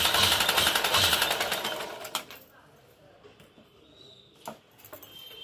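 Sewing machine running a double line of stitches on flag fabric, a dense rapid whirring buzz for about two seconds that then stops, leaving quiet handling clicks and taps.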